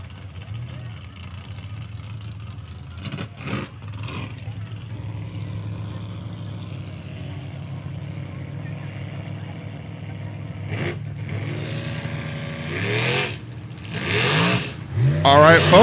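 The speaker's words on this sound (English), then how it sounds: "sounds like boat 666 is making their way towards the start" A racing powerboat engine idles and then revs up as it heads to the race start, the engine note climbing louder toward the end, with voices talking over the steady rumble.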